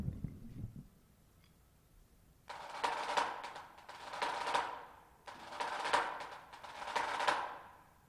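A snare drum plays a rudiment mixing buzz strokes and single taps in triplet groupings, delivered as two bursts of dense rolled strokes, close and fairly quiet, after a brief lull.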